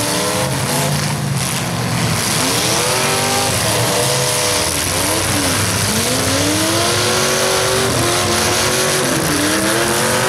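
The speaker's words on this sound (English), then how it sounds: "Number 107 car, Blue Bishop just going to hit by Brad Williams" Fullsize cars in a demolition derby heat at the Scott County derby, engines roaring and revving loudly and continuously with tire squeal and skidding, a dense wall of motor noise with no clear separate impacts.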